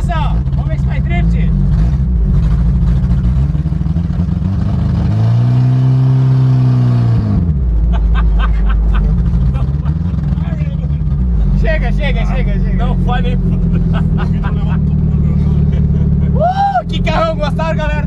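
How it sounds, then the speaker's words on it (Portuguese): A drift car on a race track revs hard, the engine note climbing and falling in long sweeps, loud and close, while several people talk over it throughout. "Vamos ver se faz drift."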